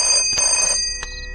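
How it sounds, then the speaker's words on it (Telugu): Telephone ringing in a Telugu film scene, a steady electronic ring with sustained tones and short bursts across the whole moment, fairly close and clear with no talk over it. "మీ వాడెవడో పొద్దు నుంచి ఫోన్ చేస్తున్నాడు."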